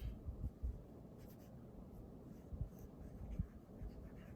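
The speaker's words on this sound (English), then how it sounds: "in here I might write, dream" A pen writes by hand in a vision board journal, giving faint, close scratchy strokes in short bursts with brief pauses, alone with no talking.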